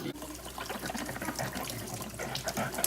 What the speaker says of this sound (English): Right here, we're just washing them while the comal heats up.